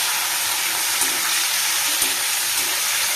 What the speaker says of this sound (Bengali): চিংড়ি মাছটা ভাজতে শুরু করে দিয়েছি।